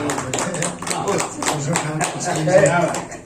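Audience applause at a gathering of senior literary figures marking a mother's death anniversary. Clapping patters through the clip, blended with ongoing talk and room murmur.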